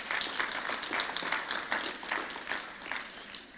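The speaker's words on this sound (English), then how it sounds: "So, please, give them a round of applause." A workshop audience gives a round of applause, a modest crowd clapping in a dense, slightly rhythmic patter heard from moderate distance, steady for a few seconds.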